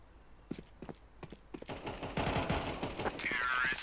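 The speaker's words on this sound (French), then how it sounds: "Pourquoi ils se tirent entre eux?" Gunfire in Counter-Strike 2, with scattered single shots at first, then rapid overlapping bursts that build into a loud, dense volley, plus a short whooshing effect near the end.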